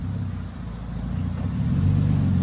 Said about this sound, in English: Old exhaust, new exhaust. Much better, cleaner.